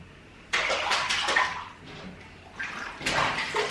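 A child splashes water in a bath, with two bursts of loud, close splashing separated by a quieter moment of sloshing water.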